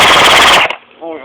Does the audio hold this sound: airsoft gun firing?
yes